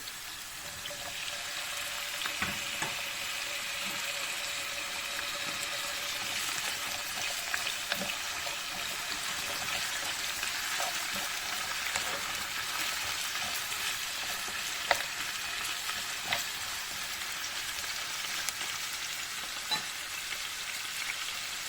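Chopped celery sizzling in a frying pan of oil for a leek dish with orange, a soft, even crackle and hiss lasting throughout with scattered small pops, fairly quiet and free of talk.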